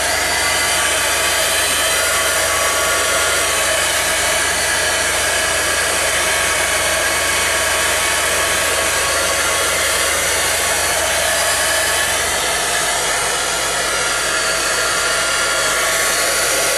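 A hair dryer blows continuously and loudly up close, drying crafted steampunk tag pieces with a steady, unbroken whoosh and a slight shift in tone near the end, with no voices over it.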